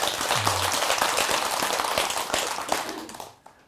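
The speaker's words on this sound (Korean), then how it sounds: "네, 그럼 박수 한번 치십시오." A congregation at a Buddhist dharma talk in a temple hall claps together, dense continuous clapping that holds steady for about three seconds and then stops, leaving a few stray claps.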